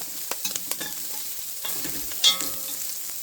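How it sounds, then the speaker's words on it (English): Ham frying in a pot on a wood cookstove while being browned for pea soup, a close, continuous soft sizzle broken by occasional stirring scrapes and small pops, with no talking. "I'm just giving it a little fry here."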